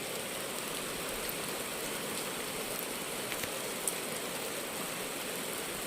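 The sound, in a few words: rain falling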